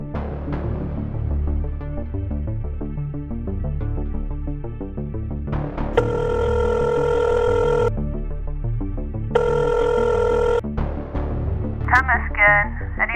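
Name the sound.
telephone ringing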